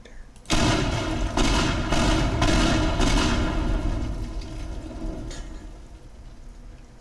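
A structure blown apart with explosives in the destruction game Teardown: a sudden loud blast followed by several rumbling booming bursts over a few seconds, then a long fading roar.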